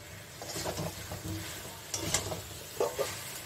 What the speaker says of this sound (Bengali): এর মধ্যে আমি আলুটা দিয়ে দিচ্ছি